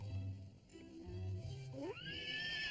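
A wet pet pony on a stud farm neighs, a rising whinny that climbs and holds near the end after low snorting and breathing, close and clear with no talk.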